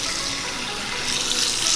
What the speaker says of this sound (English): And then I turn on water to rinse off the starch.